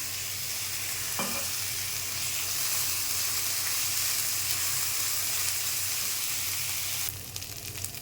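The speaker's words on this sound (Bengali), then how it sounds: "পেঁয়াজ রসুন আদাটা ভাজা ভাজা হয়ে গেছে" Onion, garlic and ginger fry in a little oil for a baila fish bhuna, giving a steady close sizzle with stirring throughout and a brighter burst of hiss near the end.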